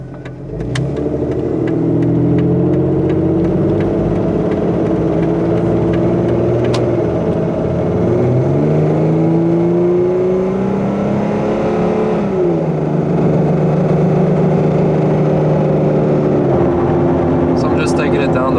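A Jeep Cherokee on a cold-weather test drive, its engine droning steadily from inside the cabin as it accelerates through gear changes, with tire and road rumble underneath.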